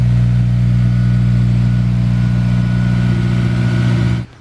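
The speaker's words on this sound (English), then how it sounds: "Definitely a nice sounding motor." Toyota Land Cruiser engine running steadily, a loud, close, even idle drone with a constant low hum that cuts off abruptly near the end, no talking.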